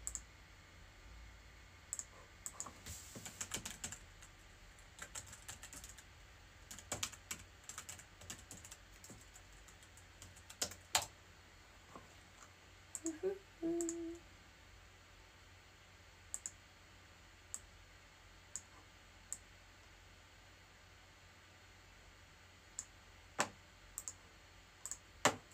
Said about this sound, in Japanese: タイピングの音が心地いい